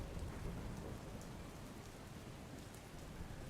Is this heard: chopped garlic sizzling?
no